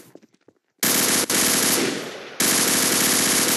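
Assault rifle from the M9K weapons mod in a video game, firing in loud, rapid, sustained automatic bursts, two long strings of fire separated by a brief break, close and alone.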